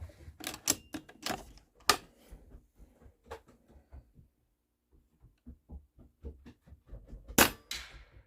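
A PCP airgun fires slugs: sharp, loud cracks in an uneven sequence, each followed by fainter clicks and mechanical rattling of the action, with quiet gaps between.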